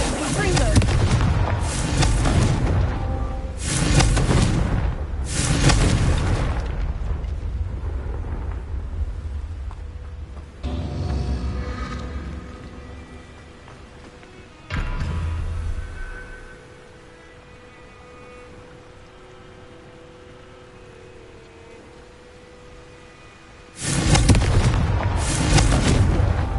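Confringo spell explosions in the Hogwarts Legacy video game come as loud booming blasts in clustered bursts, separated by quieter stretches of low game ambience.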